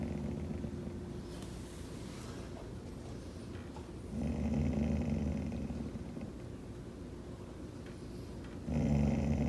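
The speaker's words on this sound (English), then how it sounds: "Just like you hear a little low growl right now." A dog gives a low, rumbling growl close by, quiet and continuous with slightly louder surges, with no talking over it.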